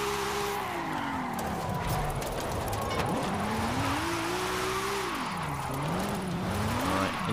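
A Jaguar XKR-S GT drifts in Forza Horizon 5, its engine droning and whining up and down in pitch as the revs rise and fall, with tire noise under the engine throughout.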